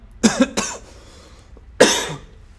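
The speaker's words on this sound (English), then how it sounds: "I'm gonna cough a little bit" A person coughs twice in quick succession, pauses, then lets out one more harsh cough, close to the mic.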